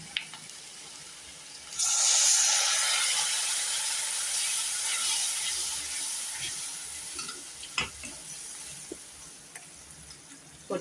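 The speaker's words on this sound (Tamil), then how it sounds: "இதில் கொஞ்சம் தண்ணி விட்டு நல்லா மசாலா கலவையெல்லாம் வாசம் போகிற மாதிரி வதக்கிக்குவோம்." A masala mixture with a splash of water added sizzles and steams in a pan for a potato cashew gravy; a sudden hiss starts, then settles into steady soft frying with a few clinks of stirring.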